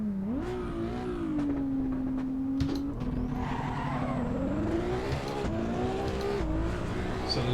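A Ferrari race car is driven on a track in the Assetto Corsa racing game, its engine note rising and holding through gear changes with revving climbs and occasional tire squeal, steady and fairly close throughout.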